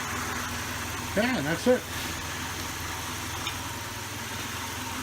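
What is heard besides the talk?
Chevy Cavalier engine idling after start-up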